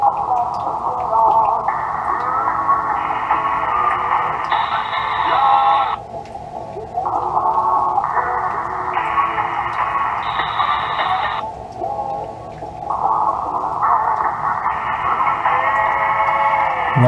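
Radio Caroline plays indoors through a Tecsun PL-368 portable receiver with an AN-200 loop antenna, a loud, steady broadcast of stepped melodic tones over a faint background hiss, with no pauses.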